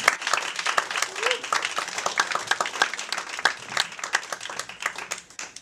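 An audience at an open mic comedy night in Ann Arbor clapping for a comedian taking the stage, a lively, crackling round of applause from a small room, with voices mixed in.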